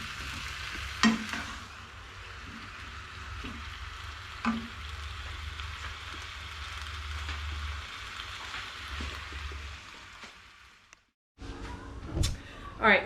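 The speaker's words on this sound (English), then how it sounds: "going to stir in these shrimp until they're all cooked completely through." Shrimp sizzle steadily in a pan while being stirred, with a few spoon knocks against the pan, a brief near-silent gap, then louder clatter near the end.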